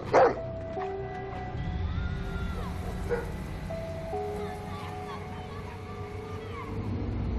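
A dog barks a few times in a scene from a Tamil-dubbed film, with sharp yips and whimpering over a low engine-like rumble, mixed with other background sounds and tonal effects.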